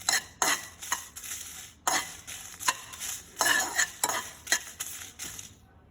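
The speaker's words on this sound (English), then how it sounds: "So we have to fry this red chili." Red chili stirring and frying in a pan over a low flame, with repeated scraping and clinking strokes of a utensil against the metal pan over a soft sizzle, close and steady, no talking.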